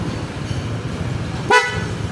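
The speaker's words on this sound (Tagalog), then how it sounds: "Stock horn, loud horn with passing." A loud aftermarket horn on a Honda ADV 160 motorcycle gives a single sharp, loud blast, brief and close, after a stretch of steady background noise.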